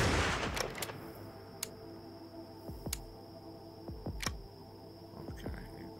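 Rifle shots in the hunting video game Hunting Unlimited 2010, a handful of sharp, separate cracks spaced a second or so apart over a low background hum, with no voices.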